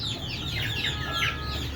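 Desi hens cluck and chatter nearby in a small backyard coop, a busy overlapping run of short, rising calls with a steady low hum underneath.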